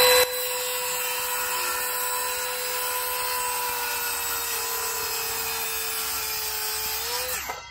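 A power saw runs with a sustained high whine as the blade cuts through timber wall plates, steady throughout and winding down abruptly at the end.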